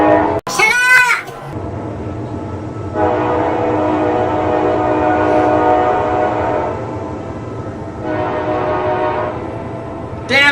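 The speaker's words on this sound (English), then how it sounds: "damn you, train, damn you!" A train passes close by, sounding its horn in long blaring blasts over a steady rumble of wheels, with a brief shout just before the horn begins.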